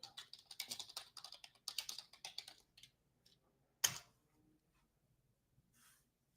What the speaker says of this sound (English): I'm going to type that in so I don't lose it.